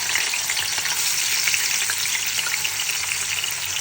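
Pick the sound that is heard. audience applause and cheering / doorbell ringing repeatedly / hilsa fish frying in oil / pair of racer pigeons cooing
hilsa fish frying in oil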